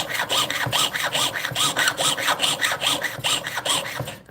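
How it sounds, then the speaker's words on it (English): A fine 4/0 jeweler's saw blade rasps back and forth in a quick, steady rhythm, each stroke a bright scratchy buzz, close and alone. "The more practice you get with sawing and the straighter you cut"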